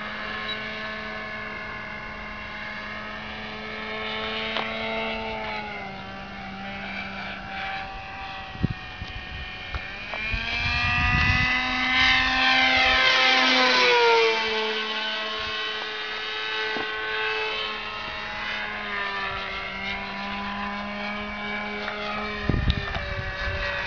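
A Topmodel Baia taildragger RC model airplane flies at the Props & Gears Airfield, its propeller engine whining steadily, swelling and dropping in pitch as it passes close overhead around the middle, then droning on farther away.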